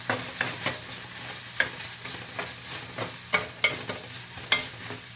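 Gram leaves for gargat are stirred with onion-garlic masala in a hot pan, a soft sizzle broken by rhythmic scraping strokes of a spoon, about a dozen distinct scrapes, close and clear.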